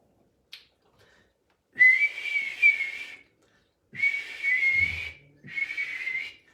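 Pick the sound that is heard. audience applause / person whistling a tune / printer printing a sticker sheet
person whistling a tune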